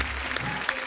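A TV comedy show's studio audience applauds loudly, a brief, dense burst of many hands clapping together at close range.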